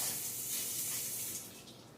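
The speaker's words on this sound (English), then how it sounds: "if you rinse your knife off" A knife is rinsed under a running kitchen tap, giving a steady close spray of water that softens slightly near the end.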